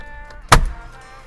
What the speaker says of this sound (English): go ahead and pull your steering wheel off